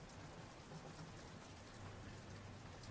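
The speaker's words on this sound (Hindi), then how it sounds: "बाहर जोरों की बारिश हो रही थी" Heavy rain pours steadily in a stormy night scene, a dense continuous hiss of drops with no pauses or voices throughout.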